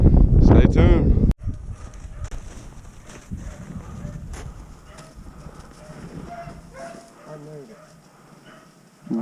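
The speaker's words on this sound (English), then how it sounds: "Dog jumped another one." A hunting dog barks while chasing a rabbit on pressured public land in Ohio in cold weather. A loud burst of barking comes first, then fainter, more distant yelps over outdoor background noise.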